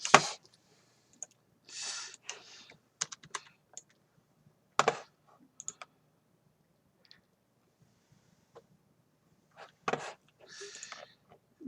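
Quick bursts of computer keyboard shortcut presses and clicks while building a virtual Lego Architecture London set, sparse sharp taps separated by quiet pauses, with faint talking in places.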